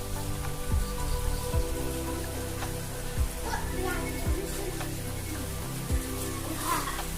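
Light monsoon rain falling steadily in a Konkan village, with a soft, continuous patter on surfaces and occasional louder drops or taps over a low, even background.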